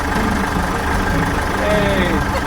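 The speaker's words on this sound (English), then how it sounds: "Alright, engine's working." A sailboat's engine idles with a steady, loud, rumbling drone that holds unchanged throughout, with a faint voice under it.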